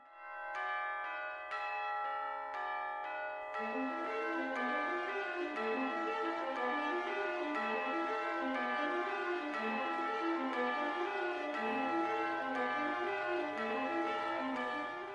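Bells opening an opera piece, a series of struck tolling tones at first, then a repeating rising-and-falling bell pattern looping steadily over a low sustained drone, clear and moderately quiet.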